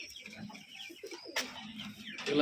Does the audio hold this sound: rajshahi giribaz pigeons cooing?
yes